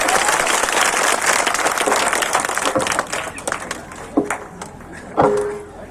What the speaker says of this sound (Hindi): अब एक बार जोरदार ताली बजाइए आदरणीय प्रताप किशोर